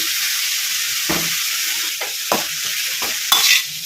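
Greens stir-fry (palya) made with arive soppu being stirred in a hot pan, a steady close sizzle and hiss with several distinct scraping stir strokes of the spoon against the pan.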